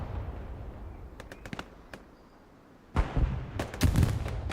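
An explosion and scattered gunfire in the WWII shooter Hell Let Loose, set in the Hurtgen Forest: sharp distant shots, then a loud nearby blast with rumbling and more shots, with no talking.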